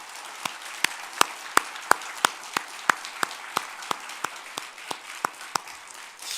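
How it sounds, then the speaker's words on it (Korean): A church congregation claps together in steady unison, roughly sixteen sharp, evenly spaced claps ringing in a reverberant hall at moderate distance, with no talking over them. "우리 하나님께 영광의 박수를 올려드리겠습니다."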